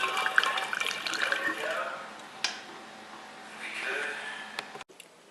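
Water running into a container being filled for mead, a steady splashing pour that swells and fades, fairly close and moderately quiet, ending abruptly.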